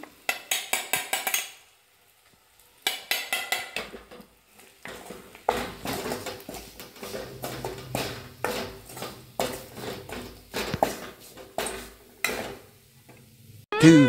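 A spoon scrapes and stirs ground herbal spice powder with chilli powder and small shallots in a pan. Irregular bursts of clattering and scraping come close and fairly loud, separated by short quiet gaps.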